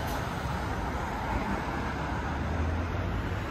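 Dense, congested road traffic on streets leading to a new supermarket on its opening day in Yoshioka, with a steady broadband roar of idling and slowly moving cars and low engine rumble throughout, no voices.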